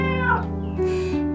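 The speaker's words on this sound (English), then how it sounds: "is for cat, it says meow." A cat gives two short, clear meows in quick succession, close and distinct with nothing else around them.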